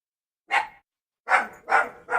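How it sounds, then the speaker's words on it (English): A young household dog barks in short, sharp bursts nearby, one bark followed after a pause by three quick ones in a row, loud with quiet between. "How grumpy is Grumpy tonight? Well, he's fixing to be grumpy with this idiot dog"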